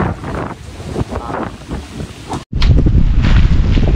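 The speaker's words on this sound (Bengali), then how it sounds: "এই যে দেখুন বাতাস, প্রচুর পরিমাণে বাতাস, আর এই যে বৃষ্টি হচ্ছে।" Loud, steady wind roars against the microphone with a rushing, rain-like wash of a storm in a Bandarban reserve forest throughout, briefly cutting out for a moment before resuming just as strong.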